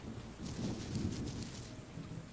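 Rain falls with a steady broadband hiss in a video game, with low rolling thunder rumbling underneath throughout.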